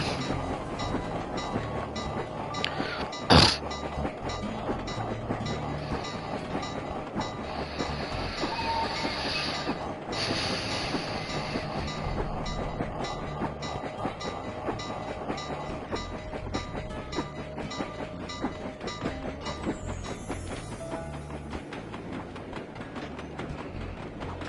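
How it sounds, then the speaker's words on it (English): A train ride in the video game Sly 2: Band of Thieves gives a steady, loud rumble of rolling rail cars with a clickety-clack texture, broken by a brief sharp burst early on, continuing unbroken for the whole stretch. "I'm gonna hitch a ride on this train to the next cabin."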